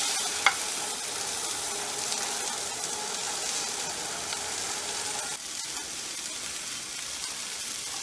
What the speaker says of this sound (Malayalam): അത് നന്നായിട്ട് ഇതെല്ലാം കൂടി നന്നായിട്ട് നമുക്കൊന്ന് വഴറ്റാം